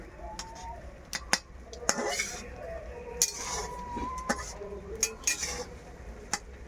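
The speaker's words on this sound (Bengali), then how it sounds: "এই মশলাগুলো নাড়বি তো, নাড়লে তো রান্না হবে।" A metal utensil stirs and scrapes spices in a cooking pot, making a series of sharp clinks and scraping clatters at an irregular rhythm, fairly faint and close, with voices talking quietly around it.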